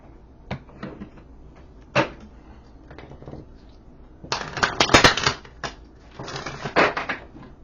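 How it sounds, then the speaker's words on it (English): A deck of oracle cards being shuffled by hand, with a few soft taps at first and then two bursts of dense riffling and flapping, close and fairly loud, with no talk. "Let me shuffle them one more time for good measure."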